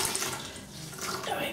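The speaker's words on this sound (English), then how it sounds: "and I'll wet my face." Warm water splashes as a face is wet before shaving, a close, steady run of watery splashing and trickling from a sink that lasts a moment and fills the whole clip.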